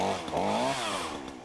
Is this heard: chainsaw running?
yes